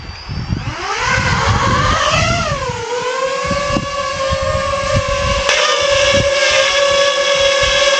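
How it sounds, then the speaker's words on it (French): A car passes by on a road during propeller testing for a DJI FPV drone, a loud rising whoosh and engine drone that swells and then settles into a steady whine, with no voices. "On laisse passer la voiture."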